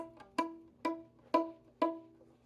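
Four plucked pizzicato notes on a violin, first-finger E, each a short, quiet twang that decays quickly, spaced about half a second apart with nothing else around them.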